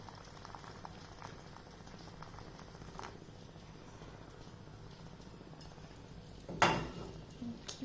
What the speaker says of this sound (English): Make sure the water boils because it must be boiling water.